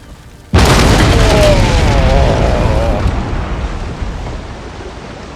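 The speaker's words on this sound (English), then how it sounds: "Looks like 5 men did not get off that ship. Huge explosions there." A ship blows up in a naval battle in Napoleon: Total War, starting with a sudden loud boom and settling into a long, rumbling roar that slowly fades.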